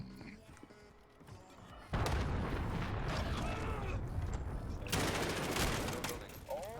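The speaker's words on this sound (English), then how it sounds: "Enemy cruise missile." In Call of Duty Modern Warfare, a cruise missile strike and gunfire erupt after a quiet stretch: a sudden loud blast near two seconds gives way to dense rumbling crackle, and a second sharp surge follows a few seconds later.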